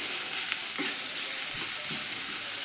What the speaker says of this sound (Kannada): ಇದು ತುಪ್ಪದಾಗ ಹಾಕಿ ಹುರಿತೇನೆ ನೋಡ್ರಿ